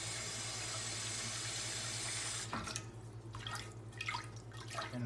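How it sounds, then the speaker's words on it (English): Tap water runs steadily into a cast iron skillet in a sink, a close, even rush that cuts off midway, leaving scattered drips and small splashes. "just gonna put a little bit of water in the pan"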